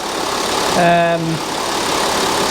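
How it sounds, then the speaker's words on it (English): Volkswagen Touareg engine running as it is driven along a lane, a steady low rumble with a brief rising whine of revs near the start that settles back down. "just run up and down the lane a few times, see if we can get it to go through maybe up to 3rd gear"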